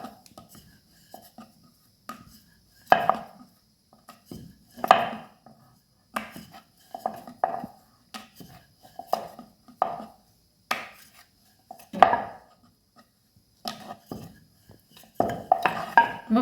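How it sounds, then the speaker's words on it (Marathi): Puri dough rolled out with a rolling pin on a hard surface makes sparse, uneven knocks and soft scraping taps, some sharper than others, with quiet gaps between strokes. "बघू शकता या प्रकारे आपल्याला पुऱ्या लाटून घ्यायचे."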